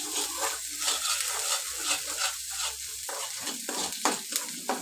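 Garlic sautéing in a pan for erachi puttu, with a continuous crackling sizzle and steady scraping of a stirring spoon, close and even, a few sharper clicks near the end, no voices.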